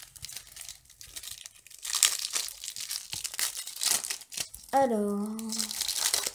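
Trading card booster packs being torn open and crinkled, with crisp foil rustling in bursts under a French-speaking voice, plus a brief tonal electronic chime near the end.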